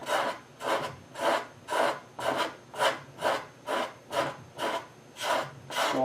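A scraper blade pulls hide glue off a wooden serpentine chest in regular strokes, about ten close rasping scrapes each rising and fading in an even rhythm, with no talk.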